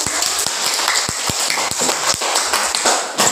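A class in a teacher-training classroom claps for a presenting group, a dense patter of overlapping hand claps sustained throughout at steady loudness.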